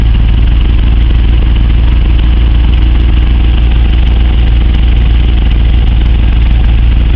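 A red MG car's engine runs continuously at a steady idle, loud and close, with a constant throbbing rumble and no talking.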